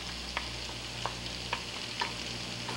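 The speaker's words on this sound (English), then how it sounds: "I'm going to add also the shallots and just let them glaze through." Shallots and garlic sauté in a pan over medium to medium-high heat, giving a soft, steady sizzle with four or five light stirring scrapes at roughly half-second intervals, fairly quiet and with no talk.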